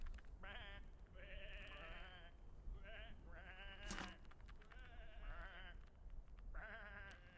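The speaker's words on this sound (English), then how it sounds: "Come on, these are just sheep." Sheep in the video game Whateverland bleat repeatedly, several wavering calls in quick succession, clear and fairly close, with a brief sharp click partway through.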